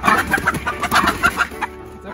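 Loud, close clucking from backyard chickens comes in short repeated bursts that fade toward the end, with no talking.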